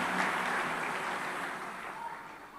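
Steady applause from a church congregation for its choir, a dense, continuous wash of clapping that holds evenly throughout, moderately loud and without any voices.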